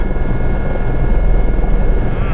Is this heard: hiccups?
no